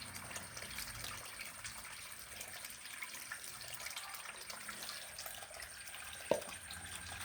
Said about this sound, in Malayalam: ഇനി കുറച്ച് വെള്ളം കൂടെ ഒഴിച്ച് കൊടുത്താൽ മതി.